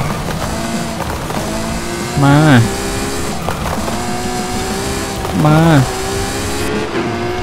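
A Ferrari FXX K race car in Forza Horizon 5 holds a loud, steady engine drone, rising and falling in pitch through gear changes, while someone talks briefly over it twice.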